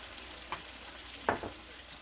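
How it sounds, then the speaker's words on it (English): Homegrown onions from the freezer tossed into a pan: a soft steady sizzle under low hiss, with a couple of brief scraping clatters as they land and are moved around. "I'm going to toss in my onions"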